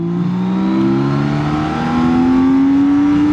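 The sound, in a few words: motorcycle accelerating in third gear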